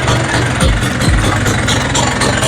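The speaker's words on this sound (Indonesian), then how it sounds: "Suara mesinnya masih belum halus." A cheaply modified Vespa scooter engine runs loud and close just after being started on choke on a cool morning, a steady rough idle with uneven low rumble and a couple of revving swells.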